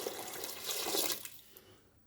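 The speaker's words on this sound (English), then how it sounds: "Then I add in water." Water pours briefly into a cooking pot of Nigerian ogbono and okro soup with meat, a close splashing rush that swells for about a second and then fades.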